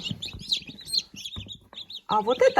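Newly hatched chicks of hen breeds such as Liven calico and Adler silver peep in an incubator, high bursts of cheeping that come and go, heard over a person talking nearby.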